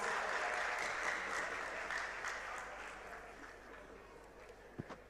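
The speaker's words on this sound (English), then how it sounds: "A round of applause to yourselves." Students at the Ghana Digital Innovation Week 2023 closing ceremony applaud themselves, a broad crowd clapping that starts full and gradually fades, ending with a few isolated thumps.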